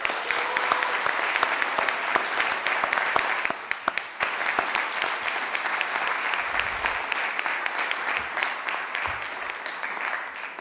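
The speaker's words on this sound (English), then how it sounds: "can you please give Keith Rand a big round of applause?" Audience at a city council reorganization meeting applauds steadily and fairly loudly for about ten seconds, a dense wash of many hands clapping with no pause.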